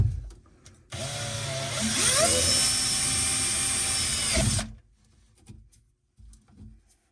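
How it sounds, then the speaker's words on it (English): A power drill with a 1/4-inch bit whirs loudly for about four seconds, its pitch shifting briefly as it bites in, then stops, leaving quiet. "With our 1/4-inch drill bit, put it right on the side here."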